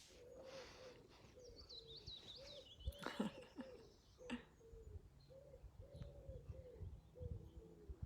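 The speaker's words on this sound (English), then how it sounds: "There's the sound of the pigeon to signify meditation beginning." A pigeon coos repeatedly in a soft, rhythmic series, with small birds chirping in the background and a few faint knocks.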